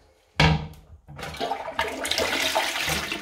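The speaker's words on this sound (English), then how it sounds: "Flush is fine with no hairs" A toilet in a rental flat with a cracked bowl is flushed: a sharp lever clunk, then loud rushing, gurgling water that swells and keeps pouring steadily, heard up close with no talking.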